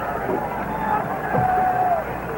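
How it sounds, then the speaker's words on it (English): Steady crowd hubbub fills a college football stadium at Notre Dame during a 1967 USC game, a continuous roar of massed voices with some whistles rising above it. "the crowd here at Notre Dame is making too much noise"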